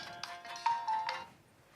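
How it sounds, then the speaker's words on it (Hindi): An electronic phone ringtone plays in short repeating bursts of melodic tones, fairly close and clear, with no talking. "फोन बजन लग रहे हैं"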